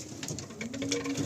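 Pigeons fluttering and cooing up close as they are let out, a quick burst of soft wing patter and calls.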